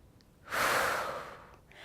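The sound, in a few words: exhaling breath during core exercise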